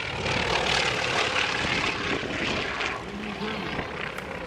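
A propeller airplane at an air show drones loudly and steadily overhead as it approaches to land, its engine noise filling the air, with voices faintly underneath.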